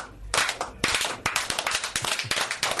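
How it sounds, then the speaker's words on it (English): A handful of sharp claps at a slow, uneven pace, close and fairly loud with nothing else around them. "This a little slow clap for Terrence."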